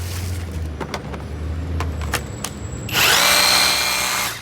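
An Onex 21 V cordless screwdriver drill with a 4 Ah battery and a 13 mm chuck runs close by with a steady motor whine. Near the end it jumps to a louder, higher-pitched run.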